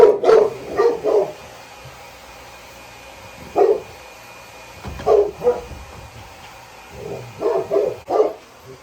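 A large livestock guardian dog barks repeatedly in short bursts of two or three deep woofs, loud and close, with pauses between volleys, on a goat farm in bitter cold.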